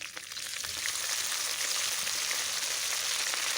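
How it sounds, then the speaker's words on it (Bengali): Onion, chili and dried shrimp paste fry in hot oil in a wok, giving a steady, soft, hissing sizzle with light crackles that holds throughout at close range. "কড়াই বসিয়ে তেল তেল গরম হয়ে গেলে পেঁয়াজ লঙ্কা আর সাথে সেই শুকনো চিংড়ি বাটাটা আমি দিয়ে দিলাম"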